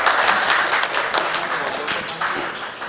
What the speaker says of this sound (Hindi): तो तालियां होनी चाहिए राज भाई के लिए।